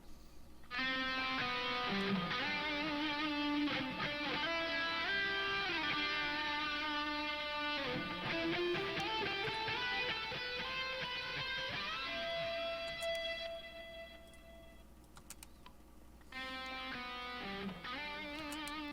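Sustained, effect-laden guitar playing with ping pong delay echoing repeats and a wide wash of stereo reverb, continuous and fairly loud, with a brief dip before resuming.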